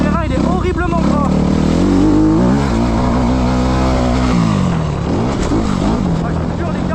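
A motorcycle rides over greasy, muddy off-road ground, its engine revving close and loud, rising and falling in pitch as the throttle opens and closes.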